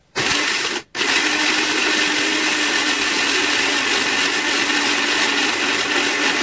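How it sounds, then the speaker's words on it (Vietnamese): A blender grinding shredded carrots, starting abruptly with a loud, steady whirring roar, a brief stop just under a second in, then running continuously without talk. "bây giờ mình sẽ cho cà rốt vào mình xay nha các bạn, thái sợi rồi mình xay cho nó nhanh nha các bạn"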